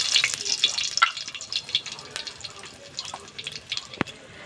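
Broken dried chillies dropped into hot oil give a crackling, sputtering sizzle with irregular sharp pops and a stronger snap near the end; a voice talks now and then underneath.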